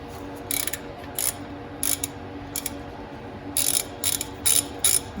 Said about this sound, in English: we're first going to break this 12 millimeter loose